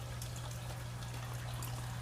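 Water trickles and dribbles continuously close by as a bell siphon drains a small aquaponic greenhouse tank, over a steady low hum.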